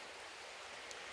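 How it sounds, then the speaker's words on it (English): A small creek flows steadily somewhere along a Smoky Mountains trail near Flat Creek, a soft continuous wash of water that is faint and distant and that carries on with no voices. "That's a little creek down the way."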